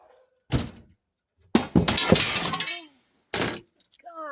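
Pieces of cut glass breaking during home repairs, heard as a short thunk then a longer crash of shattering pieces, another sharp break near the end, with a voice briefly between them.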